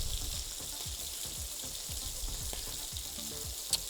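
Oil sizzles steadily in a frying pan on a home stove before the chicken goes in, a close, even crackle with soft faint ticks and pops throughout.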